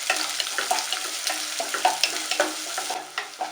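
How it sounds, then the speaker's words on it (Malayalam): Small shallots sautéing in hot oil with mustard seeds and curry leaves for Kerala-style pulinkari, a close crackling sizzle broken by repeated scraping stirs. "ഇതിലേക്ക് നമ്മൾ നേരത്തെ അരിഞ്ഞു വെച്ച ചെറിയ ഉള്ളി ഇട്ട് നന്നായിട്ടൊന്ന് വഴറ്റി കൊടുക്കാം"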